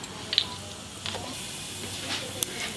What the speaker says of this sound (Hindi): इसमें मैं डाल रही हूँ जैसे मस्टर्ड ऑयल, तेल, ऐसा हींग हमने इसमें डाल दिया है।